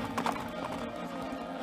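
Hooves of a horse in a Mongolian horse race pound in quick, rhythmic clip-clop beats, with a brief whinny-like tone amid a busy outdoor background, moderately loud and continuous.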